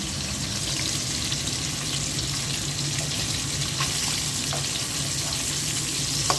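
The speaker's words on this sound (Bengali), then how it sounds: "এক পাশে মাছ ভেজে নিচ্ছি" A fairly large tilapia fish fries in oil with a dense, steady sizzle throughout, close and even, with a few faint clicks and no talk.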